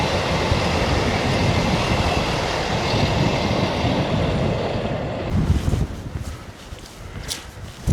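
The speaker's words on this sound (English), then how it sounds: "you get to see a train going over the viaduct" A train crosses a viaduct in the Yorkshire Dales, heard as a steady, broad rumbling roar mixed with wind buffeting the microphone, dropping away abruptly after about five seconds to quieter wind and distant rumble.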